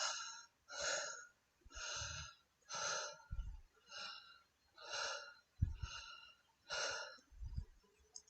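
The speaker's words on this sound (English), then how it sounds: "we're going to be using a conscious connected breathwork technique, which is where we don't hold the breath between the in-breath and the out-breath" A breathwork facilitator demonstrates shallow conscious connected breathing into the heart, about eight rhythmic cycles of audible in- and out-breaths without pauses, close and fairly quiet, with no talking.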